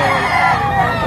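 A rooster crows amid the steady hubbub of a busy Lipa, Batangas poultry market, with clucking fowl and background chatter filling the short moment.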